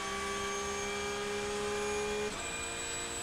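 A Porsche GT3 race car at Magny-Cours accelerates down the straight, its engine a loud, steady high-pitched whine that climbs, briefly drops at a gear change, then holds a new pitch.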